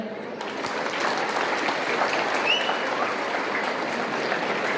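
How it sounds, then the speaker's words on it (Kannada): Audience applause at a Sri Varamahalakshmi puja gathering in Dubai: a dense, steady wash of many hands clapping fills the room continuously and evenly from start to finish, with no voices over it. "ಇದು ನಿಮಗೆ ನೀವೇ ಕೊಟ್ಟ ಚಪ್ಪಾಳೆ."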